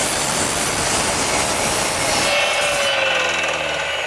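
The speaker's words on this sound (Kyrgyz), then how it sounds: "Ушул эле размерлерде азыр станокко кесип келебиз." A machine saw cutting a wood board for a chess box, a loud, continuous rough whine and rasp running throughout, close and steady with no speech.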